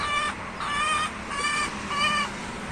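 A hen clucks in a farmyard coop, giving a few repeated drawn-out calls in an uneven rhythm, fairly close and clear over low background noise.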